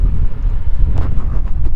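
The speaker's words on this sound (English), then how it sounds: "It is windy out here" Wind blows hard at a rest area in the Nevada countryside, a loud, steady, low buffeting rumble against the microphone that goes on throughout, with no talking.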